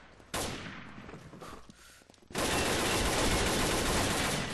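Gunfire in the Combat Arms shooter game, a short burst at first and then sustained, dense automatic fire that fills the second half loudly and continuously, with no talk.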